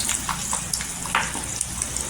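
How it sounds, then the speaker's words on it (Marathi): Garlic frying in hot oil on a griddle over a gas flame, a close, steady crackling sizzle with brief louder pops and spatters. "तेल गरम झालं का इथे लसूण टाकायची."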